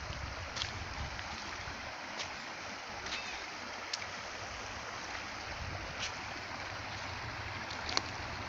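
A village river runs with a steady, even rushing hiss, faint and unbroken, with a few small splashes and no one talking.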